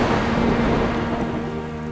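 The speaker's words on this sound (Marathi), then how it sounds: "अधूनमधून पावसाचा शिडकाव सुरू होता." Steady rain shower hissing near the sea, a dense broadband wash with a low rumble beneath, continuous and fairly loud with no voices.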